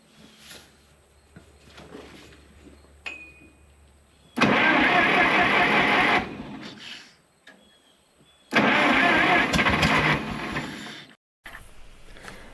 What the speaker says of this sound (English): the tractor was sitting here running in this part